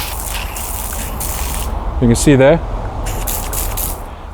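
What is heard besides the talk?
water from a garden hose with the tap on full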